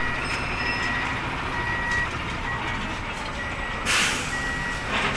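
A bus backing up sends out a series of repeated high reversing beeps over a steady engine idle, with a sharp hiss of air brakes near the end.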